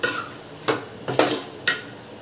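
Spoon scraping and knocking against a pot while stirring mutton curry with masala, four short sharp clinks spaced about half a second apart over a quiet background.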